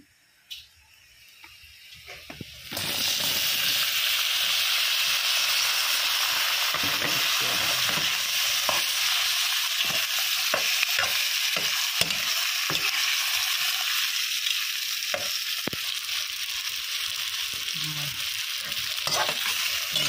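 Shrimp drop into a hot pan and set off a loud, steady sizzle that rises suddenly after a quiet start and keeps crackling close up for a long stretch, with occasional stirring pops and no talk.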